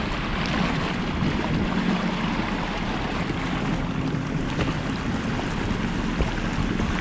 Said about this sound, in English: Let's see how we do with the waves.